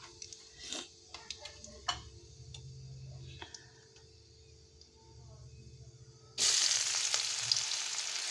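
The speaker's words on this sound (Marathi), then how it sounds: "कांदा चांगला लालसर होईपर्यंत परतून घ्यायचा।" Onion is dropped into hot oil with cumin and mustard seeds, preceded by sharp ticks and clicks of spatula and seeds, then bursting into a loud, steady close sizzle for the last couple of seconds.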